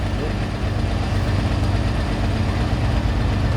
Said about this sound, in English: You can see we got a white field boss picking up right now.